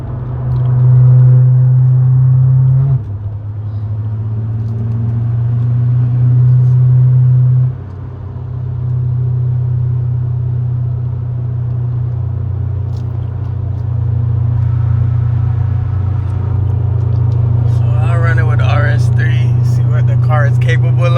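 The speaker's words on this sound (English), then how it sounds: "We're gonna run it against the RS3 and see what we can do" A big turbo BMW 540i drones loudly in a steady high-speed run against an Audi RS3 with FBO hybrid turbo, engine tone stepping up through gear changes, with voices talking over it near the end.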